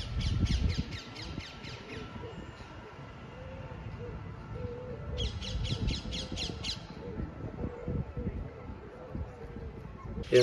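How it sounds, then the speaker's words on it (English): Rose-ringed parakeets call in the Jardin du Luxembourg in Paris, giving two bursts of rapid, harsh, repeated squawks over a steady outdoor background of park noise. "I was hearing rose-ringed parakeets here, which is a bird from India"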